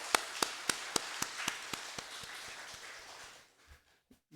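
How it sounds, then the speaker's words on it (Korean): Applause during a Sunday morning church service greets newly registered members. It comes as rhythmic, evenly spaced claps over a wash of scattered clapping, then fades out, followed by a few faint knocks. "우리 박수로 환영하겠습니다"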